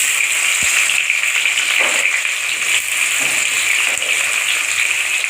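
Onion frying in hot oil in a pan gives a loud, steady hiss and crackle that runs unbroken and close up, with a few faint knocks underneath and no talk.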